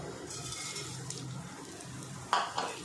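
Vermicelli roasts in a pan and a spoon stirs it, giving a soft, steady scraping sizzle. Near the end comes a brief metallic clink, with no talking.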